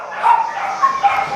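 Rescue dogs at a shelter give high yips and whimpering whines in short bursts, fairly close, with some voices faintly mixed in.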